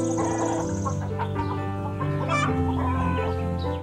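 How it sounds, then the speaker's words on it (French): A farm hen clucks repeatedly in short, throaty, close-up calls, loud and alone with no talk, some notes rising into higher squawks. "La poule est un oiseau qui ne vole pas."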